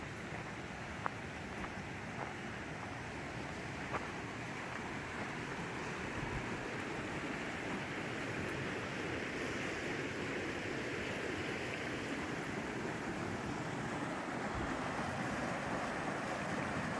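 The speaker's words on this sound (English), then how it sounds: "Another thing I didn't remember about this trail was that it followed this creek." A creek flowing beside a forest hiking trail, a steady broad rush of water with faint wind and a few light footstep-like ticks.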